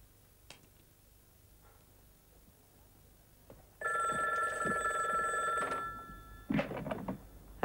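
An old-style telephone bell rings in two bursts indoors, the first longer and steady, the second shorter, with faint room noise and small knocks before it.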